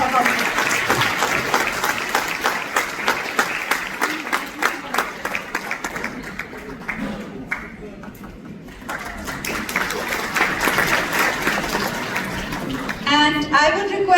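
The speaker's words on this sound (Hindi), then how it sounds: "आपकी तालियों को बताना चाहिए मैंने कैसा परफॉर्म किया" Applause from an audience at a community event following a performance, steady clapping filling most of the stretch, dipping briefly in the middle before swelling again.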